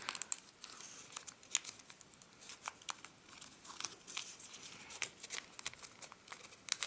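Stiff origami paper crinkles and crumples in short, quick bursts while it is folded into a traditional tie. The crisp rustles come near and fairly soft, with no voices.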